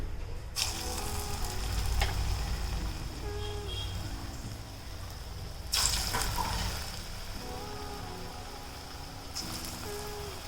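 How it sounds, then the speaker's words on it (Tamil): Chana (chickpea) kebabs deep-frying in hot oil, a steady broadband sizzle running throughout with a couple of sharper bursts as pieces drop in, no talking. "நம்ம இப்போ ஒன்று ஒன்றா போட்டு பொரிச்சிடலாம்."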